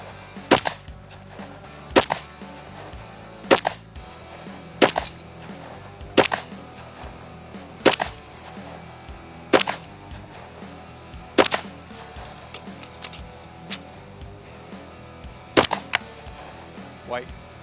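A shooter fires shot after shot on a timed shooting course, the reports coming as sharp, loud cracks at fairly steady intervals of a second or two, each one ringing out above a low background hum.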